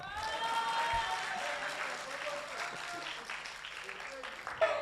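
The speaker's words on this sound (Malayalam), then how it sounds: "ഈ കുടുംബത്തിന് നിറഞ്ഞ കയ്യടി കൊടുക്കുക" Audience at a Chirakkal Association Dashotsavam 2018 celebration applauding a family, a continuous moderate wash of clapping mixed with crowd murmur, gradually easing off.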